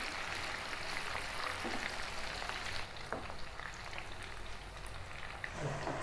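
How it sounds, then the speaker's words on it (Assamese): Jackfruit pieces frying in hot oil for an Assamese-style curry, giving a steady, close hiss and crackle that runs evenly throughout with small pops scattered over it. "পিচকেইটা ধুনীয়াকৈ ভাজি ল'ম।"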